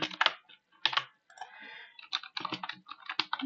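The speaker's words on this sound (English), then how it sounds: "we'll just put random keyboard input to make sure it doesn't crash" Fingers tap on a computer keyboard in irregular bursts of quick clicks with short pauses between, close and fairly quiet, with no talk.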